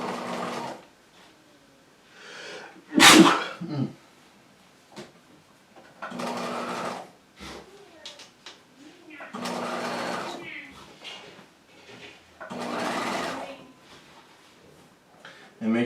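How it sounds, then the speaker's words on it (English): Domestic sewing machine stitching a curved set-in pocket seam in fabric, several whirring runs of a few seconds each separated by pauses, close up, with someone talking between and over the stitching. "So I'm going to stitch nice and close to that edge."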